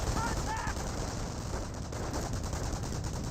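Rifle squads exchanging fire in the real-time strategy game Company of Heroes, a dense continuous crackle of rifle and machine-gun shots, with a voice faintly underneath.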